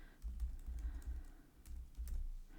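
Keys clatter on a computer keyboard in quick, soft bursts of typing, close and fairly quiet, with a brief pause midway and no talking.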